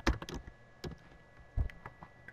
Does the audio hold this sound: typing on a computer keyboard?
yes